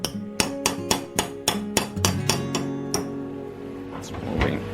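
Hammer blows beat a rusted flange inward on a Suzuki SJ410 body repair, about ten sharp metallic strikes in a steady rhythm with ringing tones, close and loud, ending with a scrape.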